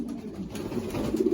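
Loft of racing stock pigeons, old birds and youngsters, gives soft, low throaty coos that roll on steadily and swell louder toward the end, close by and without talk.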